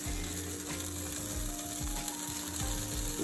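A teaspoon of butter melts in a frying pan for a sauce, giving a steady, quiet sizzle with faint scraping and clinking over a constant background hum.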